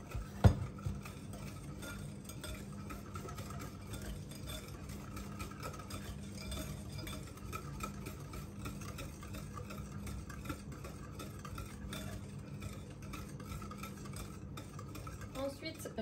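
A spoon stirring batter flavoured with vanilla and salt in a bowl, faint and quiet, with a sharp clink near the start and soft scraping throughout, no talking.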